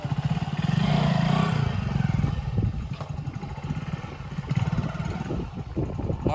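A motorcycle engine runs steadily nearby, its low rumble loudest early on and then settling into a rough, continuous chug.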